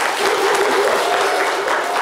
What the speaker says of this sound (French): Applaudissements pour elle, bravo.